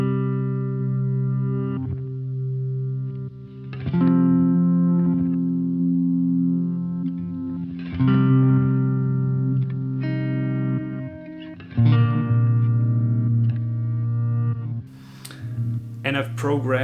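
Guitar chords pass through a reverse delay effect, each strum swelling in softly and sustaining with a washy, modulated tail, the chord changes coming every few seconds.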